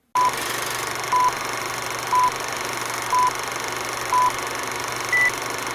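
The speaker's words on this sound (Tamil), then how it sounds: "விடை அலாரம்." Six short electronic beeps repeat evenly about once per second over a steady low hum, like an alarm going off.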